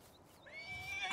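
A horse whinnies in a Farming Simulator 19 game, a single rising-and-falling neigh that swells at moderate volume over a soft background, with no talking.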